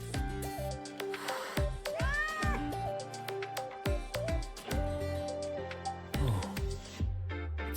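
Meowing from a frightened cat in the game Wuthering Waves, several distinct rising and falling cries scattered over music and game sound effects, fairly close.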